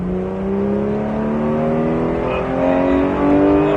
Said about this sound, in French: Allez, accélère et dépasse-le.